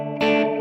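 A guitar played through the drift modulation effect of an Mvave Mini Universe pedal gives a sustained, shimmering, wavering tone that swells suddenly partway through.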